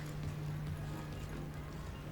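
A horse's hooves clip-clop in a steady trot during a dressage test at an eventing competition, faint and distant beneath a low constant hum, with no talking.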